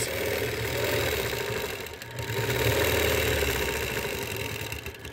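A quilting machine stitching outward from the center of a quilt, its motor running in a steady close mechanical whir with a fast rhythmic needle chatter and a brief dip near the middle, no talk.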